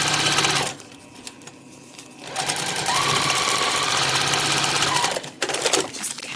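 A quilting sewing machine hums steadily at close range, pausing briefly before running again in a sustained whirring stitch with a rhythmic mechanical chatter.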